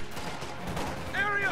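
Rifle fire crackles in a WWII strategy game battle as rear-echelon troops engage Volksgrenadiers at close range, a dense continuous clatter of shots with a ringing tone near the end.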